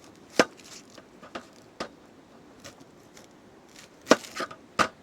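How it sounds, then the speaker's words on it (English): A knife trims an onion at an outdoor rainy campsite cookout, producing several sharp, separate chopping clicks on a board, close and fairly crisp, spaced irregularly and then bunched near the end. "you can trim up the onion"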